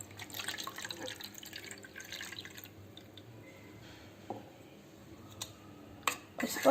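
A glass of water splashes into a bowl of yogurt for a few seconds, then a few drips and light clinks follow in a quiet room.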